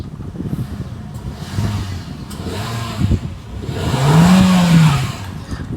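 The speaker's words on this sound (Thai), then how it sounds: "เดี๋ยวผมขอจะเร่งเครื่องให้ฟังเล็กน้อยแล้วกันนะครับ" A 2020 Toyota Yaris 1.2 engine idles, then revs up in a few short, rising pushes before settling, heard close by with no talking.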